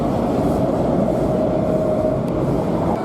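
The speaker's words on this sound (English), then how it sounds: "That's the metro." A metro train in Washington, D.C. rumbles past at close range, a steady, loud rolling roar with a faint squealing tone held through the middle, continuous for the whole stretch.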